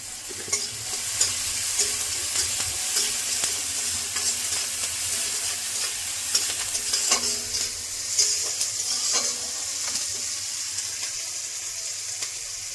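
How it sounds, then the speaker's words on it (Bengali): Green chilli, onion and tomato frying in a pan, a continuous close sizzle with scraping and stirring strokes at an uneven rhythm throughout. "কাঁচা লঙ্কা, পেঁয়াজ, টমেটো একটু ভেজে নেব।"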